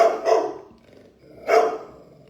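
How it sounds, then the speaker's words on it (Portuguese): A dog barks twice in sharp bursts about a second apart, fairly close and loud, with no talking over it. "esse cachorro, ele vem aqui latir pra mim do nada"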